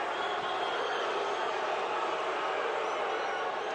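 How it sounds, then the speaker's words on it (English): Boxing crowd at ringside during the Oscar De La Hoya vs John John Molina fight, a steady, distant roar of crowd noise from a large arena, with voices blending into a continuous murmur. "Crowd booing the action here at ringside."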